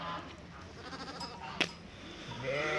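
A sheep and a sick lamb bleat on a farm, a few faint calls heard behind quiet background noise, with one sharp click midway and a louder bleat rising near the end.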